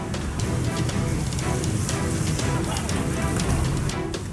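Heavy rain pours down over part of Jakarta, a dense steady hiss and patter on surfaces that stays loud and constant throughout.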